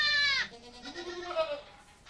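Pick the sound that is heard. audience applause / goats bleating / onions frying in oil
goats bleating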